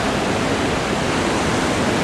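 Ocean waves on the Oregon coast roar close and loud as a dense, continuous rushing wash with no breaks and no voices.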